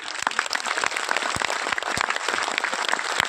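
Audience applause at the Latiya Mahotsav gathering, a steady wash of clapping with a few sharper individual claps standing out, moderately loud and unbroken.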